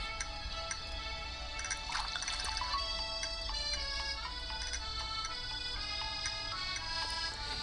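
A watering can is refilled in Stardew Valley, giving faint, brief watery dripping and filling sounds set against quiet, chiming game music.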